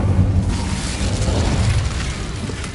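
A fiery Incendio spell blast in the Hogwarts Legacy video game: a loud, sustained roaring whoosh with a deep rumbling boom, steady for nearly three seconds.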